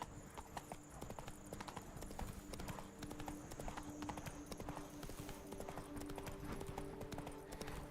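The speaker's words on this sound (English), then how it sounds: "If you don't get on the damn horse" Steady clip-clop of horse hooves at a gallop in The Witcher 3, a continuous rhythmic run of hoofbeats with game music and ambience underneath.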